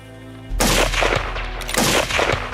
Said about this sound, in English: The sound of gunfire echoed throughout the mountains and forests